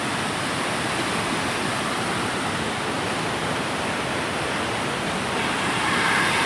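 Water rushes at a village dam in a loud, dense, unbroken roar that stays steady throughout, with no talking over it.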